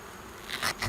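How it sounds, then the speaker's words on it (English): Honey bees at a queenless hive buzz close by in a dense, steady drone, with louder swells as individual bees pass near. "we do have quite a number of bees here."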